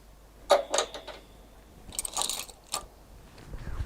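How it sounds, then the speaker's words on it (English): Long nose pliers grip and twist an over-tightened streamer fitting: close, sharp metallic clicks and scraping at first, then a rougher grinding scrape and a couple of light taps, fairly quiet, with no talking. "I'm just going to get a long nose pliers here just to grip it slightly while I just"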